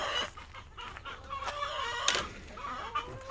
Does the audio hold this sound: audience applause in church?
no